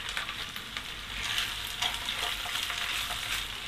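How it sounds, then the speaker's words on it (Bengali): Sliced and chopped onions frying in hot oil in a pan, giving a steady, moderate sizzle with light crackles and stirring scrapes throughout. "এখন আমি এখানে দিয়ে দিব পেঁয়াজ কুচানো"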